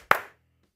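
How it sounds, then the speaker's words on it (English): Two sharp hand claps land close together and up close, then quickly fade to quiet during a sports play-by-play stream. "2 claps for Noah and 2 claps for Dejan."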